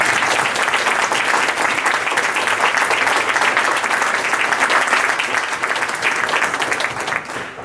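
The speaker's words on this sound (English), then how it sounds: "Let's give a round of applause for Philip and the panelists." Sustained applause from an audience at a blockchain and fintech meetup, dense and loud for thanks to a panel, then thinning out in the final moment.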